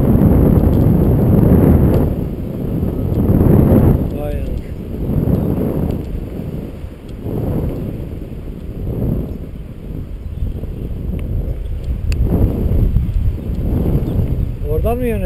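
Wind roars and buffets past the microphone during a paragliding flight, in heavy gusty surges that rise and fall over several seconds while two people talk throughout.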